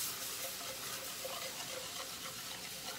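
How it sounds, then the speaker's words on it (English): Steam hissing from a hot pan after water is added while cooking smothered chicken, a steady broad sizzling hiss lasting throughout, close and even. "always be careful adding that water because it's going to steam up on you"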